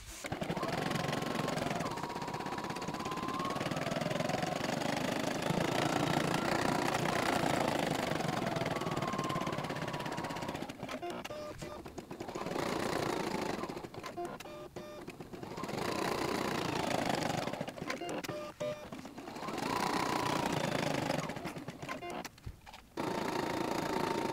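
A Poolin EOC05 embroidery machine stitches black eye outlines on a sock monster softie held in the hoop. It gives a steady, fast mechanical chatter in long bursts, broken by short pauses and clicks. No one speaks.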